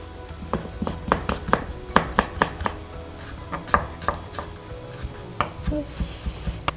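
A knife julienne-slices vegetables on a cutting board, producing a loud, close series of crisp taps in quick rhythmic bursts with short pauses between runs.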